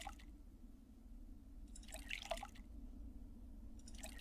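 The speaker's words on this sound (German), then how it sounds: "Wir haben hier noch einen Wasserbottich. Kann mal die leeren Flaschen auffüllen." Water drips in the Arx Fatalis video game as empty bottles are filled from a water barrel, a few short splashy drip bursts over a low steady hum, fairly faint.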